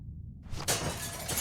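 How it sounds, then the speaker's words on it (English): A window smashed with a bat in The Walking Dead Season 1 video game by Telltale, 2012: a loud, sudden glass shatter followed by tinkling, scattering shards, close and alone. "Use the bat to shatter that window so you can reach in"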